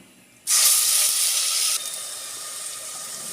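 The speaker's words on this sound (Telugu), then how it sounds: "ఉల్లిపాయ పేస్ట్ బాగా ఫ్రై అవ్వాలి" A loud sizzling hiss bursts in suddenly as onion paste hits hot oil in a pan for fish curry, then eases to a steady, softer crackle.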